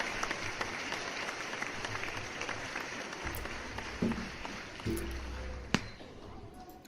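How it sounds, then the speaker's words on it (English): Canned applause sound effect plays during a live ask-me-anything stream, a steady wash of clapping with a few louder bumps, fairly quiet throughout. "Applause!"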